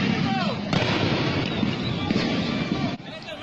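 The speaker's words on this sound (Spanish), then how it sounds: "El tiroteo era entre ellos mismos." Gunfire during an ambush on an opposition march in Nicaragua, heard as a dense, continuous crackle of rapid shots with rumbling blasts, loud and sustained throughout, muffled by wind against the microphone.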